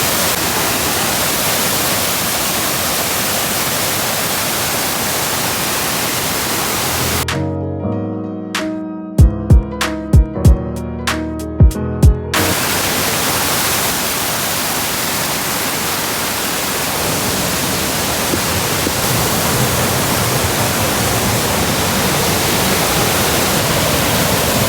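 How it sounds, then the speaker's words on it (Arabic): A loud, steady roar of water rushing down from an Alpine mountain fills the air, briefly broken by a few seconds of near silence with faint clicks before the torrent resumes. "ان الواحد يصدق ان المية دي كلها جاية من فوق الجبل"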